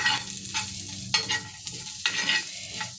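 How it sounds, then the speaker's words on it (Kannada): Onions and curry leaves fry in hot oil for mutton sukka, a steady close sizzle broken by several scraping stirs of a spoon in the pan. "ಫ್ರೈ ಆಗ್ತಾಯಿದೆ, ಎಣ್ಣೆ ಹಾಕ್ಕೊಂಡು ಫ್ರೈ ಮಾಡಿ"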